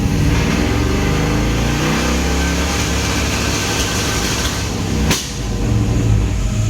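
Engine of a Cutlass with Holley Terminator X fuel injection held on a brake-pedal two-step launch limiter at 4250 rpm, a loud, close, sustained rev with rapid stuttering pops, briefly dipping near the end before resuming.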